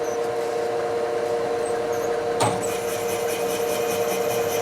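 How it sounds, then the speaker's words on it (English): A drill runs steadily on a Harley shovelhead motor part during an engine rebuild, a constant whining grind with a brief sharp scrape midway, close and continuous. "drill hole drilling"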